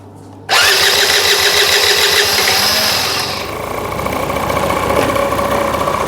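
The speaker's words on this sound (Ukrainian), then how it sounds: "скутер завівся і, до речі, працює на диво дуже стабільно" A Honda Lead AF20 scooter engine catches after a brief silence on its first start after a rebuild, running loudly and steadily, its pitch settling into a rough idle.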